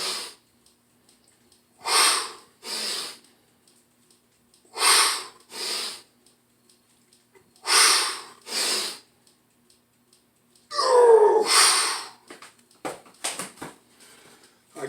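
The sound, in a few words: exhaling during a push-up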